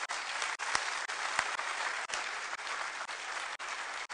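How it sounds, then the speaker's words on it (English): Steady audience applause at a public pension crisis panel discussion, a dense wash of many hands clapping continuously at moderate distance with no talk over it. "Please join me in a round of applause."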